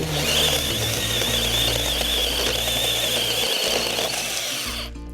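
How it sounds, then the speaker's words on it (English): A small handheld power tool whirs steadily at close range with a high whine, running continuously for about five seconds before winding down at the end. "It's a very powerful little tool."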